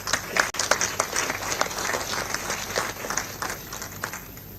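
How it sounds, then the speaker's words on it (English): Applause from the audience at the DefSAT 2024 gathering greets a speaker as he is invited to the stage. Many hands clap in a steady, moderately loud patter, with a brief dip just after the start. "Please welcome with a rousing applause"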